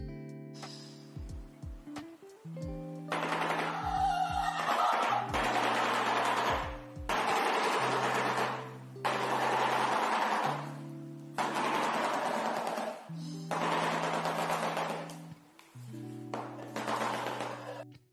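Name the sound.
shoebill clattering its bill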